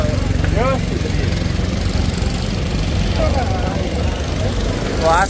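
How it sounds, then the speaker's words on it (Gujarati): A boat engine idles with a loud, steady drone throughout while people talk over it. "તો આ છે અમારી બોટ."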